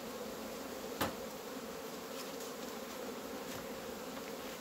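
A honeybee colony hums steadily inside a hive during frost at minus 16 degrees, a constant faint buzz with a few brief clicks over it.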